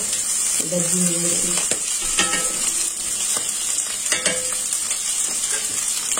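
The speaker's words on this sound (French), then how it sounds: "Eric a fait revenir les saucisses" Sausages browning in a pan make a bright, continuous sizzle with occasional scraping and stirring clatter, loud and close, and brief murmurs of voices sit underneath.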